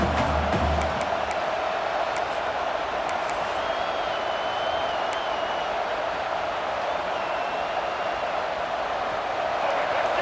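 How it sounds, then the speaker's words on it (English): A stadium crowd in the EA Sports College Football 26 video game keeps up a steady, dense roar throughout, with a faint whistle-like tone and a brief burst early on. "This crowd going to try to make life miserable for these guys."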